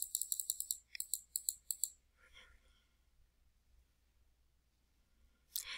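A computer mouse clicks through Microsoft Word dialog settings, with a rapid series of about a dozen crisp, close clicks, then quiet, then one more click at the end.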